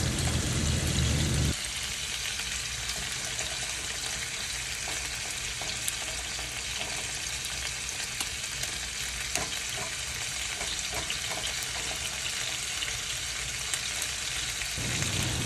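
Tomatoes fry in a pan for fish biryani, giving a steady crackling sizzle that runs for the whole stretch, with a brief louder burst at the start that settles into continuous close frying with faint stirring.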